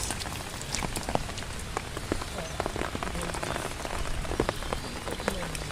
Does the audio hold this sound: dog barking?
no